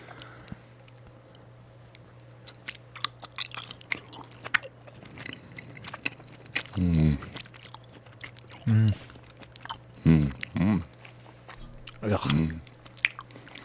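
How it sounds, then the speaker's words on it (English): Orange slice gummy candies being bitten and chewed up close in bursts, with wet squishy mouth sounds repeating every second or two over a steady low hum, while people talk between bites. "I loved, as a kid, the orange slices. The orange slice gummies."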